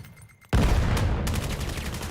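A sharp gunshot cracks out suddenly after a quiet moment in the VR shooter VAIL, followed by a burst of rapid follow-up fire and echoing rattle.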